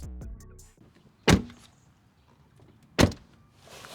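A Tesla Model Y door shuts twice with two solid, well-damped thunks about two seconds apart, close by, after a brief whir at the start and quiet between the closures.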